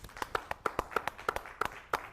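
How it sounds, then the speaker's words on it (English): A small audience at a NELP Class XI commencement claps for a graduate, a thin, sparse patter of individual hand claps with steady spacing, fairly faint and without talk. "we're going to applaud for our graduates as we announce them"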